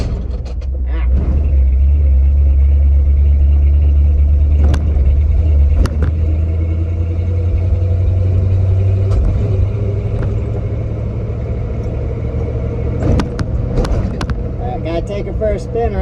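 A 1970 Ford 600 hay truck with a 360 gas motor rumbles loud and close as it drives, its deep engine drone steady and later easing slightly, with occasional knocks and rattles over the top.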